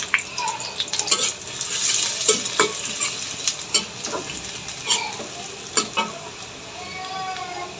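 Softened onions frying with cinnamon, a cardamom pod and bay leaf, a lively sizzle broken by repeated spatula stirs and scrapes against the pan, close and fairly loud.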